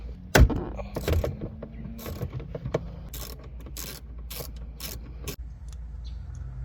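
Ratchet wrench loosening the bolts that hold the factory stereo in a 2012-2015 Lexus RX350, giving a few sharp clicks near the start and then scattered light mechanical ticks and clatter up close in a quiet car interior.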